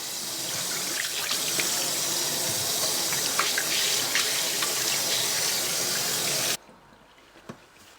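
Tap water runs steadily into a freshly scrubbed sink, rinsing it with a continuous close splashing hiss. The flow shuts off abruptly near the end, leaving a few faint drips.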